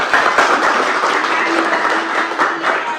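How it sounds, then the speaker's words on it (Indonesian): An audience at a university session breaks into steady, dense applause after a question, holding at a constant level for a few seconds, with a faint murmur of voices beneath it. "Tepuk tangan dong untuk pertanyaan."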